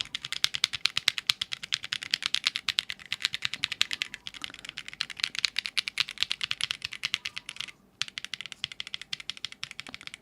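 Rapid, continuous clatter of fast typing on a mechanical keyboard with Echo Yellow switches, nearby and even in rhythm, with one brief pause near the end.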